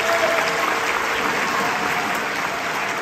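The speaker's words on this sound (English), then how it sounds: "Let's give a big round of applause for the students." Loud, dense applause from a concert audience cheering student jazz performers at a college event, steady and continuous with no break.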